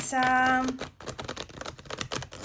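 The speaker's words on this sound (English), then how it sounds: "Shuffling all 97 cards," A quick burst of voice, then a rapid, crisp fluttering and clicking as a 97-card Minchiate tarot deck is riffle-shuffled close by.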